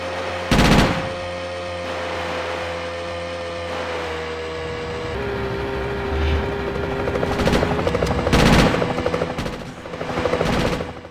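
In GTA Chinatown Wars, a helicopter's steady rotor drone hums loudly throughout while bursts of machine gun fire crack out near the start and again toward the end.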